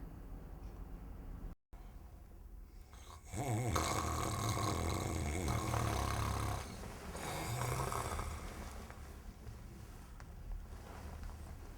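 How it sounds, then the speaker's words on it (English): Snoring rises in a couple of long, rough, rumbling breaths after a quiet start, heard close and fairly loud with no talking. "Snoring can cause disruption to the lives of not only the snorer"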